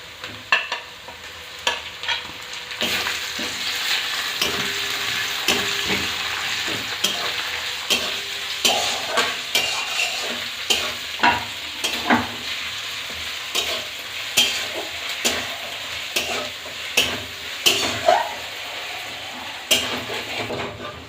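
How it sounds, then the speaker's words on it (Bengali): Onions frying in a pan with ginger paste, garlic paste and slit green chillies, for a Sundarbans crab curry; a steady close sizzle runs throughout, broken by repeated scraping stirs that grow more frequent toward the end. "পেঁয়াজ হালকা ফ্রাই হয়ে গিয়েছে, এবারে পেঁয়াজের মধ্যে দিয়ে দেবো আদা বাটা, রসুন বাটা আর চেরা কাঁচা লঙ্কা।"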